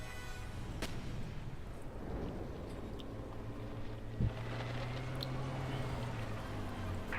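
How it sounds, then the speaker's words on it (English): Mortar fire in the World War II strategy game Company of Heroes 2: one dull thump over a steady low rumble of battle ambience, with a few faint distant shots scattered around it. "Mortar attack here, ready to support the front efforts."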